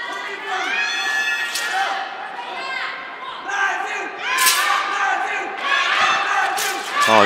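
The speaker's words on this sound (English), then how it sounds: "getting a lot of encouragement from the crowd is Henry Yuji Nakata" A large indoor crowd shouting and cheering in support of a competitor at a world wushu championship, loud, sustained, with rising swells and a few sharp thuds.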